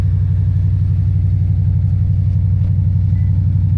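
A Lexus IS F engine fitted with headers and a tune rumbles steadily nearby, a deep, even drone that holds at a constant level without clear revving.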